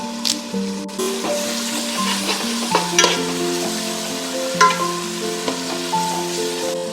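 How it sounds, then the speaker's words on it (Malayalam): Chopped tomatoes dropped into a pan of sautéed onions for chicken biryani, sizzling and frying close up with steady crackle and occasional stirring scrapes, no talk. "നമ്മളുടെ സവോള നന്നായിട്ട് വഴന്ന് വന്നിട്ടുണ്ട് നമുക്ക് അതിലേക്ക് രണ്ട് തക്കാളി അരിഞ്ഞ് വെച്ചതാണ് കേട്ടോ ഞാനത് ഇട്ട് കൊടുക്കുകയാണ്"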